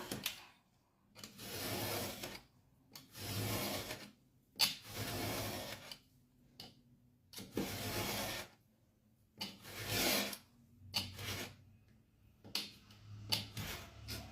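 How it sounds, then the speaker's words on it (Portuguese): Paper being cut to separate a bookbinding ruler template, a series of short scraping and rasping strokes in irregular bursts with quiet pauses between them, close and fairly soft, with no voices. "Já vou começar cortando aqui, ó. Cortar rente aqui."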